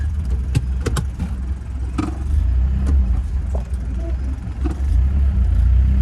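Right-hand drive imported Land Rover Defender with a diesel engine, started and pulling away: a steady low rumble runs throughout with brief knocks and clunks over it, growing slightly louder as it moves off.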